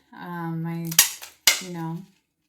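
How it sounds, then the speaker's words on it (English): Two sharp plastic cracks snap out between droning mechanical tones, like a punch forced through thick plastic, loud and close. "hole punch some holes in here. It's kind of loud. This is pretty thick plastic."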